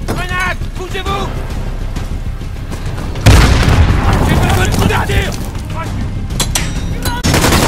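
Grenade blast in the 2019 Modern Warfare story campaign on PS4: a loud, sudden boom about midway with a rumbling tail, among gunfire and radio chatter from the squad talking throughout.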